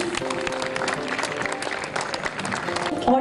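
An audience applauds at a singing competition event as a guest is welcomed, with dense clapping that runs steadily throughout, fairly loud and close, while some background voices mix in.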